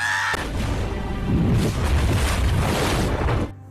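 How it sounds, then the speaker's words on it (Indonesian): A deep, booming bomb explosion from the film Inferno (2016) bursts in and rolls on as a loud low rumble with crackling debris for about three seconds, then cuts off. "Kemudian bom meledak."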